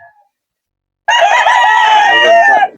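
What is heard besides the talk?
roosters crowing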